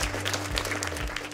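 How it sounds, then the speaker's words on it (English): A group of school students applauds, brisk, close clapping filling the short moment with a steady crackle. "Give yourselves a round of applause for that."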